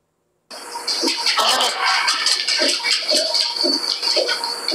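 Water runs continuously into a tub, a steady rushing splash with gurgling pulses, starting abruptly after a brief silence.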